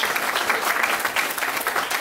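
Wedding guests applaud together at a ceremony, a steady dense patter of many hands clapping throughout, close and fairly loud with no voices standing out.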